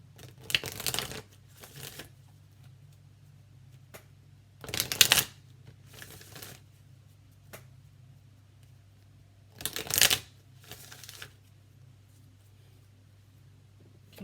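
Enchanted Map Oracle cards are shuffled in several quick riffling bursts separated by pauses, soft and close against a low background hum.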